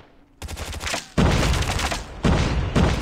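Loud, close automatic gunfire in a Call of Duty Mobile gunfight, with sustained bursts and heavy impacts that cut off and then restart.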